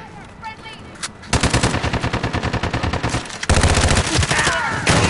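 Rapid automatic gunfire bursts loud and close in Call of Duty Modern Warfare (2019), a fast stuttering rattle broken by a brief pause, with faint voices underneath.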